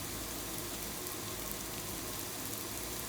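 Onions and curry leaves frying in a pan of oil for a prawn roast, a continuous soft sizzle at low level, alone with no talk.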